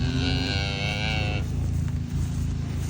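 An older cow in a pasture gives a loud, close moo with a harmonic tone that fades after about a second. A steady outdoor rumble continues underneath.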